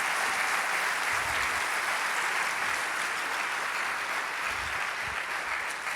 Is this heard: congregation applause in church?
yes